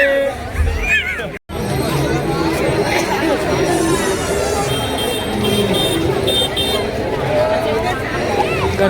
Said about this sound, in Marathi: गर्दी मजबूत आहे.